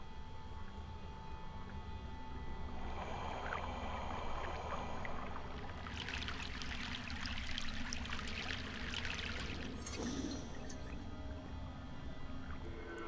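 A boat crossing a river in Broken Sword, with continuous low water lapping and a rush of splashing, pouring water that swells in the middle and then fades, fairly quiet overall.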